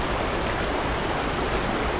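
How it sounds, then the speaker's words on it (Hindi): A Himalayan waterfall pours steadily, a dense, even roar of flowing water with no break or change across the two seconds and no voices. "वह जो जल का प्रवाह है, जल की जो कलकल है"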